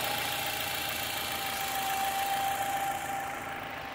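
A 2002 Nissan Altima's 2.5-litre four-cylinder engine, paired with an automatic front-wheel-drive transmission, idles steadily at close range: a continuous even hum with a faint whine running through it and no voices.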